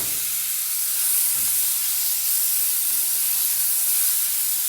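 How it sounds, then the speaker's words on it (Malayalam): Chopped medium tomato dropped into a pan of onions sautéed light brown for dal fry, giving a steady, close hissing sizzle with a slight swell near the start, no voices. "ഇതിലേക്ക് ഒരു മീഡിയം സൈസ് തക്കാളി കട്ട് ചെയ്ത് ചേർക്കാം."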